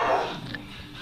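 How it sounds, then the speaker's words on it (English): Two puppies bark and yip during play in a front pen, steady and fairly close, with a busy, rough texture and no clear separate barks standing out. "Here we have the two puppies, Jace and Lola, having a good time in the fr"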